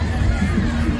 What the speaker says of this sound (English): Crowd building up.